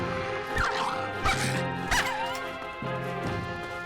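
Dog barks and yelps in Fallout 3, a few sharp cries amid game music and combat noise, fairly close and mid-loud.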